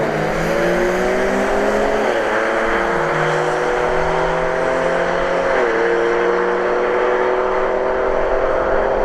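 A Ford F-150 Raptor makes a drag racing run at a motorsports park, its engine droning loud and continuous with pitch dropping at gear shifts, no talking.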